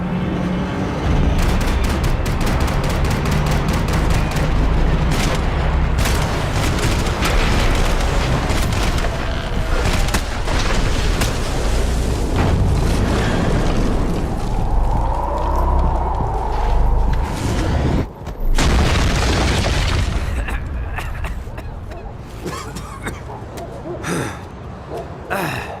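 Gunfire and combat noise from the video game Max Payne 3, loud and dense, with bursts, booms and mechanical clatter running throughout under a busy game soundtrack.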